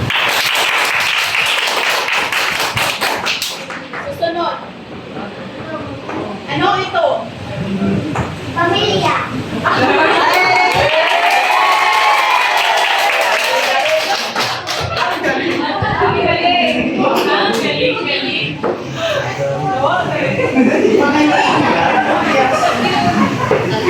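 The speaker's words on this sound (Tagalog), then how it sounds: "Bigyan natin ng palakpak ang ikalawang pangkat." Classroom group applause for the second team during a primary-grade social studies lesson, loud and sustained clapping mixed with children's chatter and voices throughout.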